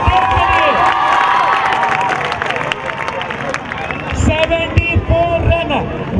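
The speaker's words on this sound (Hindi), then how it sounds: "तो दोस्तों एक बार जोरदार तालियां" A crowd at a local cricket tournament match in Taloja cheers and applauds loudly, a dense, continuous roar of shouts and claps with voices mixed throughout.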